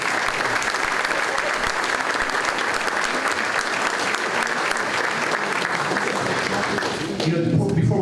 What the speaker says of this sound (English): If we could just make one more round of applause for our MC today, Clark